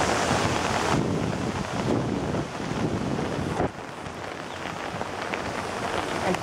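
Rain falls on a handheld umbrella outdoors, a dense, steady hiss of drops mixed with gusty wind buffeting, loud and close with no talking.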